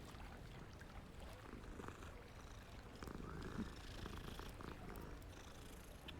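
A cat purrs in the video game Hogwarts Legacy, a soft, low rumbling purr that runs on steadily, faint and close amid quiet game ambience.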